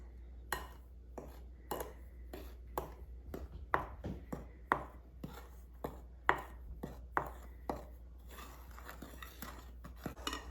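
Flour, salt and yeast being stirred in a bowl for donut dough: a quiet, rapid series of close scraping taps and clinks of utensil against bowl, irregular and repeated.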